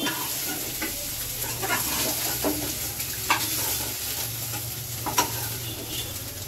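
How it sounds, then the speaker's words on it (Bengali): Whole garam masala, cumin, chilli and bay leaf sizzle in hot oil as a tempering, a dense, constant crackling hiss with small pops scattered throughout, close and fairly loud, with no voices. "দিলাম গোটা গরম মশলা, জিরে, লঙ্কা, তেজপাতা ফোড়ন দিয়ে দিলাম।"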